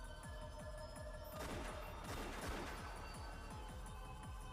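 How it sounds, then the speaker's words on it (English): Rapid gunfire rattles in the video game Umineko, a dense fusillade of repeated cracks echoing down a hallway toward a submarine dock, with a heavier burst in the middle and no voices over it. "They heard gunfire from down the hallway."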